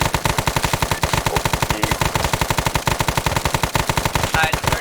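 Rapid sustained machine-gun fire in a military video game, loud and close with a fast, even rhythm of shots running the whole time and no pauses.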